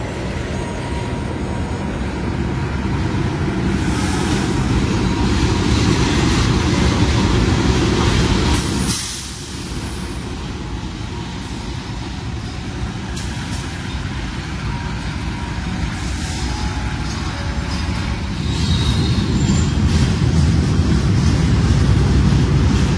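Kamandaka passenger train on the new Semarang Tawang to Purwokerto and Cilacap route, rolling past at the station with a steady, loud low rumble of wheels and carriages, a brief dip midway, then continuing heavy rail noise.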